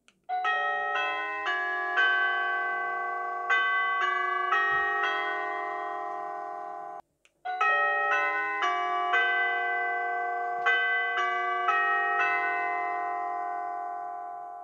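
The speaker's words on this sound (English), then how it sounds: "Doorbell." A Nest Hello doorbell chime plays a multi-note melody twice, clear and close, each tone ringing out and fading with a short pause between runs.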